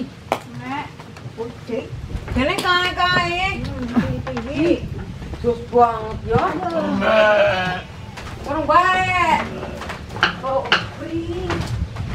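Goats in a goat pen bleat again and again with quavering calls, some near and loud, while people talk nearby.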